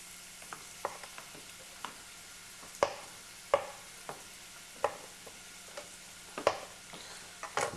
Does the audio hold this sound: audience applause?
no